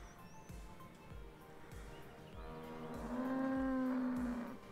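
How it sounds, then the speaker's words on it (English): Cattle in the farming video game Cattle and Crops let out a long, loud moo that swells near the end, over a rhythmic thumping mechanical background. "We have our cattle in there."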